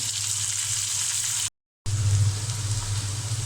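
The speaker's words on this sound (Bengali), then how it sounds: "ওই তেলের মধ্যে পেঁয়াজ দিয়ে দিলাম মাছ উঠিয়ে নিয়ে।" Onion dropped into hot oil left over from frying fish, sizzling steadily and loudly, with a brief silent gap before the crackling frying resumes even stronger.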